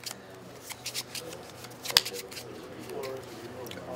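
A deck of cards is shuffled at a Magic: The Gathering Pioneer match table, giving a series of quick close riffling clicks and one sharp snap, with quiet background noise.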